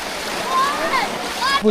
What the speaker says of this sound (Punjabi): ਆਹ ਵੇਖੋ ਜੀ ਪਾਣੀ ਆ ਵੀ ਘਰਾਂ 'ਚੋਂ ਪਾਣੀ ਆਉਣ ਡਿਆ ਜੀ